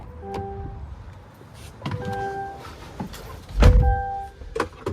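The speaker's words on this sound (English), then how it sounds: "And then you just want to hold that button to close it." The power front trunk of a GMC Hummer EV Edition 1 pickup closes under motor drive with short whirring motor runs and faint beeps, ending in a loud latching thunk and a few lighter clicks.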